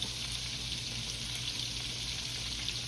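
Shrimp deep frying in oil give off a constant, even hiss and bubbling sizzle, close and steady throughout, with nobody talking.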